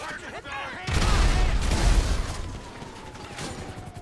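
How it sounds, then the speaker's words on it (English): A grenade goes off among a crowd of police in GTA 5 on the PS3, giving a loud, rumbling boom with a debris-like roar that fades over a couple of seconds, while a voice talks. "Let's just launch a grenade into them there and send that frame rate down to 20 FPS"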